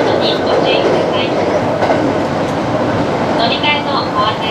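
A JR Hokuriku Main Line train running between Toyama and Kanazawa, heard as a loud steady rumble and rattle of wheels on rails with a clatter from the carriages, while an announcement voice talks over it.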